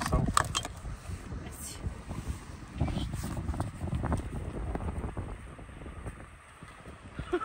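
Wind gusts outdoors in the Sahara Desert, buffeting the microphone with uneven, rumbling surges that rise and fall. No one speaks over it.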